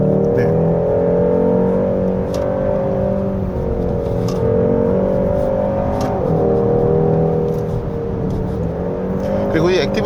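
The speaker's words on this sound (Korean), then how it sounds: "이 액티브 사운드 디자인은 그 아주 높은 RPM에서 계속 지금 유지를 하니까" A 2024 Hyundai Sonata N Line 2.5T holds high revs on a winding mountain road, its engine and active sound design producing a steady, loud tonal drone with slight pitch swells, heard from inside the cabin.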